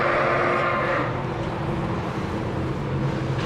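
Ewes and lambs in a lambing jug pen, with steady farm-animal sound and a low continuous rumble throughout, the bleating and shuffling nearby and moderately loud, no talking.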